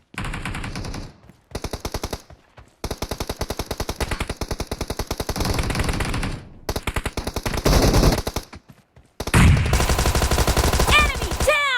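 A Thompson submachine gun without a suppressor firing in a video game, long rapid full-auto bursts of sharp, loud reports broken by brief pauses, ending in a heavier final burst with ringing casing and effect sounds.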